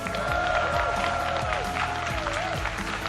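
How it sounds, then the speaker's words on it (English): Loud, sustained applause and crowd noise at PAX West for second-place finisher Kola of Moist Esports, continuous clapping over a busy hall with tonal background sounds and faint cheering. "Give him a round of applause."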